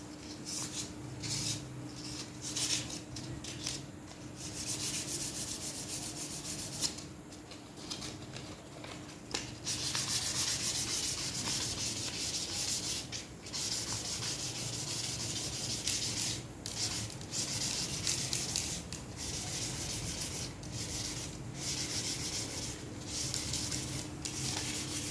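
Fine sandpaper rubs over bamboo for an Aceh kite as it is finished, a quiet, close rasping in repeated strokes with short pauses between bursts.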